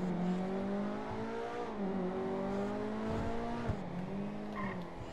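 Sports car engine in the video game GTA 5 drones loud and close, its pitch sliding up and down with steady revving and a brief skid or tire squeal, with no talk over it.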